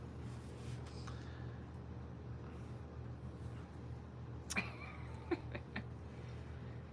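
A cat meows at a door indoors, with faint, brief cries rising over a steady low room hum, followed by a couple of soft clicks.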